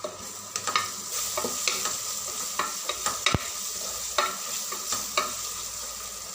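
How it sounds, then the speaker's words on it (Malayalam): Turmeric, garam masala, green chilli and salt are stirred into a frying mixture, an even background sizzle overlaid by a steady rhythm of spoon scrapes and taps against the pan, with one sharp knock midway and no talk. "പിന്നെ നമുക്ക് അതിക്ക് വേണ്ട ഉപ്പും കൂടി ചേർത്തിട്ട് നന്നായിട്ടൊന്ന് മിക്സാക്കി കൊടുക്കാം"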